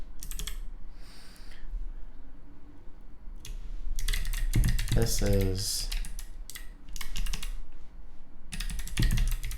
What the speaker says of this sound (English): So this is our normal typing mode